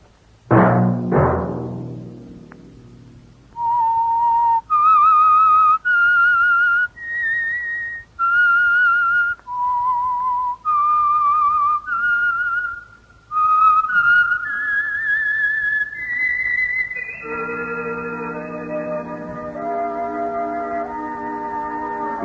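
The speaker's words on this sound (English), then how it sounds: "Let that whistle be your signal for the Whistler" A lone whistled theme melody from the old-time radio drama The Whistler, distinct held notes rising and falling in a slow, eerie tune, ending on a long sustained tone.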